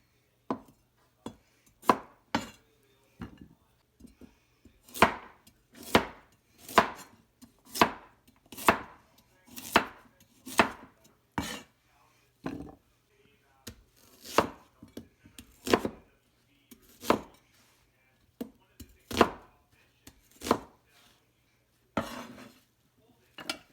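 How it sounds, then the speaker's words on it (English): Kitchen knife chopping peeled potatoes and carrots on a cutting board, a steady run of sharp close knocks in irregular bursts, some rapid, with brief pauses between, no talking. "I have peeled my vegetables and now it's time to cut it"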